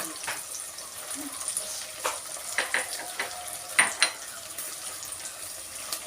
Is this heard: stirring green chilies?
yes